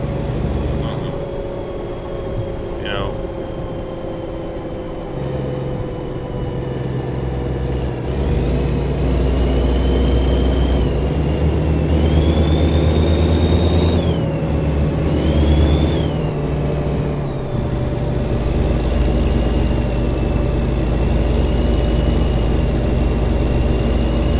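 Truck engine idling and revving in American Truck Simulator, from a 2019 Mack Anthem or Kenworth T880, a loud steady low rumble with rising and falling whine as revs change, and talk over it.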